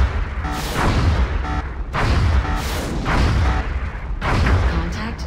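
Aircraft cannon fire at a UFO in the XCOM Long War video game, four loud booming bursts of rapid shots repeating roughly every second and a half with rumbling in between.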